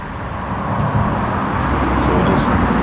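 Cars streaming along a major road right behind a backyard, a steady traffic roar that grows a little louder partway through, with a voice speaking faintly over it.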